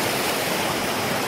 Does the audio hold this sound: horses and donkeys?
no